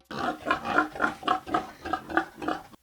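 Pigs on a pig farm grunting and oinking in a steady run of about nine short, closely spaced calls, fairly near and loud, with no talk over them.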